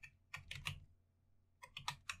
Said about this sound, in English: Just as soon as I type this in.